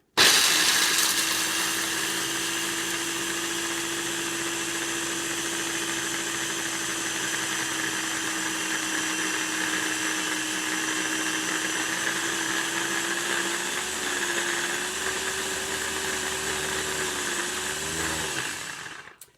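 Blender grinding walnuts into homemade walnut butter, a loud continuous motor whir held for nearly twenty seconds, its pitch shifting slightly toward the end before stopping abruptly.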